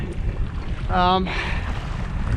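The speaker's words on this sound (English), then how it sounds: "I'm sure you can hear the wind on this recording even with the windscreen on" Wind buffets the microphone in steady low rumbles while kayak fishing on choppy water as a cold front blows in, with a brief tonal whine partway through.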